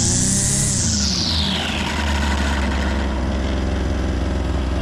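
Cheap Wild Badger gas brush trimmer engine being throttled up, a high whining rev that sweeps down into a steady loud idle-like drone, close and alone.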